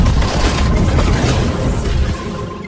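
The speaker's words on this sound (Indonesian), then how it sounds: "Lalu tak lama setelah itu ledakan pun terjadi." A loud, rumbling blast with dense low-end roar that sustains for a couple of seconds and slowly tapers.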